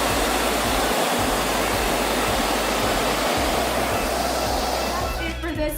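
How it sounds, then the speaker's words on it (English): Spectacular waterfall on Vancouver Island, a loud, constant roar of rushing water close by with no break, steady and broadband throughout. "another look at that spectacular waterfall"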